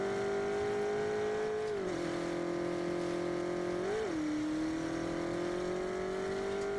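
A car driving in the Fortnite video game, its steady engine drone holding a constant pitch that dips briefly and swells near the middle before settling again, continuous and fairly close throughout.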